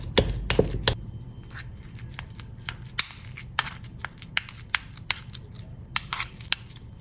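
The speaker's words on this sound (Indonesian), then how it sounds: "Kemudian tapenya dilumatkan seperti ini menggunakan sendok." A spoon mashes 100 grams of fermented cassava tape in a bowl, giving soft, sticky squelches punctuated by sharp little clicks and taps of the spoon at an irregular pace, close and quiet.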